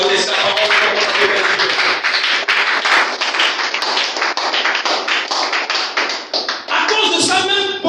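A church congregation claps rapidly and steadily throughout, loud and close, with a dense crowd texture and voices mixed in underneath. Near the end the sound swells slightly with cheering.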